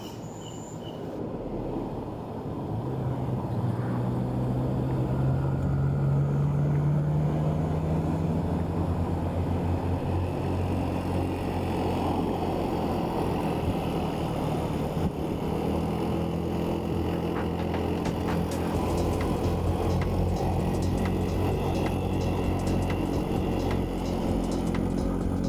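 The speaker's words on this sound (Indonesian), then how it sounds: "Bahkan mobil di depan harus menurunkan giginya." On a steep uphill mountain road on the slopes of Mount Merapi, a car engine drones steadily and loudly, a low rumble with rising pitch as it labours in a lower gear, with continuous road and wind noise and no talking.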